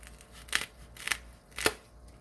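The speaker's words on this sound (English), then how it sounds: "I am going to cut down just one portion of it." A knife slices down through a segment of foam pool noodle, making three short, crisp cutting strokes close by and spaced about half a second apart, with no talking.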